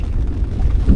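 Deep rumbling thunder after a huge lightning bolt during a storm in the Kimberley, a loud low roll filling the moment and swelling toward the end.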